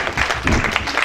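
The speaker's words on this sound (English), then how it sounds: "please stand up and give them an applause" Brief, steady crowd applause in a hall during a leadership talk, heard briefly as a dense wash of clapping with no speech over it.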